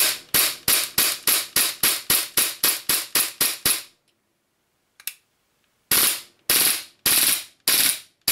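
A gas-powered gun fitted with an adaptive drum magazine fires sharp single shots in a fast, even string of about a dozen, then after a pause a few more spaced cracks, loud and close with no voices.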